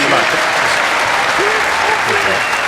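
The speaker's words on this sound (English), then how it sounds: "the crowd stand to their feet and applaud the defending champion" A snooker crowd at the 2014 Dafabet Masters stands and applauds the defending champion, with dense, steady, loud clapping throughout while a commentator talks over it.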